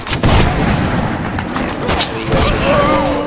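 Gunfire crackles in a multiplayer battle video game set among Russian, Prussian, Italian and Bavarian armies, with dense overlapping shots and booms filling the scene while voices carry over the top.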